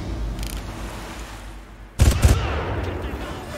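Gunfire rings out in a Far Cry game: after a stretch of low background rumble, a loud, close burst of rapid shots hits, then fades into a rumbling tail.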